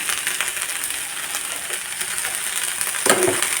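Cluster beans thoran frying in a pan as it is stirred, with a steady close sizzle throughout and a brief louder scrape of stirring near the end.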